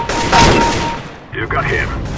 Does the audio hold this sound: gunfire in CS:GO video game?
yes